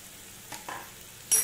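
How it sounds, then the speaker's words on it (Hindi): Macaroni and mixed vegetables being stirred in a pan for white sauce pasta, with a few soft scraping strokes over a faint background and a sharper clatter at the very end. "सब्जी के साथ हम इसे अच्छे से मिक्स कर लेंगे। हमने वेजिटेबल के साथ माइक्रोनी को अच्छे से मिक्स कर लिया है।"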